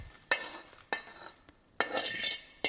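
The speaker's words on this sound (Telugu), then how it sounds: "సో లాస్ట్లో కొంచెం జీలకర్రను మెంతులు ఒక నిమిషం వేపేసుకుందాము వాటితో పాటు" Cumin and fenugreek seeds dry-roasting in a pan, heard as a few sharp, separate scraping stirs with faint crackle between them, fairly quiet and close.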